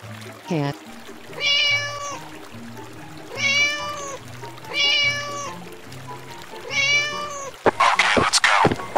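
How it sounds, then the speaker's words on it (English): A cat gives four drawn-out, tonal meows spaced evenly apart, loud and close, over a rhythmic low pulse, ending in a burst of pouring, splashy noise. "Cat."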